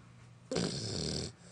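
An 11-week-old Bullmastiff puppy snores during a nap, one loud, close, drawn-out snoring breath lasting just under a second between quiet pauses.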